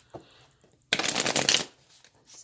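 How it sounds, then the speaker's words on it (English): A stiff, long-lasting Modern Witch Tarot deck being shuffled in sections, a brief soft riffle followed by a dense, close burst of card flutter lasting under a second, then quiet handling. "this deck is so difficult to shuffle"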